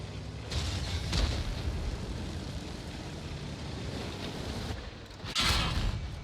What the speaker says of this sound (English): the Progetto takes a shot at you, and there's 2 shots at you